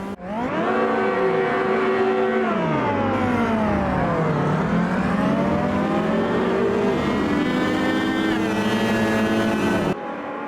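Race cars and a big truck in Automobilista 2 (AMS2) sweep past, engines revving loudly with pitch rising and falling as they go by, continuous and up close with no talking.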